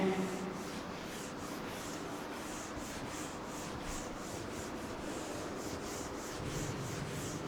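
Eraser rubbing writing off a board in a classroom lesson: continuous, fairly faint scrubbing in quick repeated back-and-forth strokes that run for several seconds.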